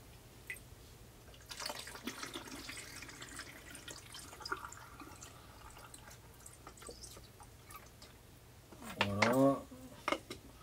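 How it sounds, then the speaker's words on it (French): Water is poured into a container of rinse solution while black-and-white film is developed. A soft trickle builds to a brief, louder gurgling fill near the end, with quiet room noise around it. "Donc je mets de l'eau là-dedans."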